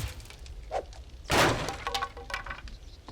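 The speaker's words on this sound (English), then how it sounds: "block breaking or damage" Block breaking in the survival game 7 Days to Die: a fairly quiet sequence of cracks and thuds, with one louder shattering crunch in the middle followed by several smaller knocks.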